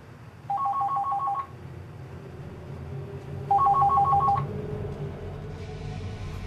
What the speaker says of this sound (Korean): 전화벨 소리 울리는 거예요